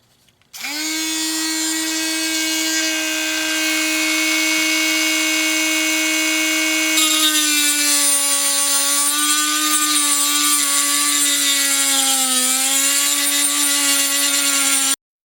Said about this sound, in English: put it into my vise so that I can begin to mill away